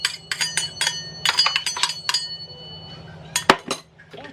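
A spoon or utensil clinks and scrapes against a bowl in short bursts while egg and vanilla are worked into cookie dough, close and without talk.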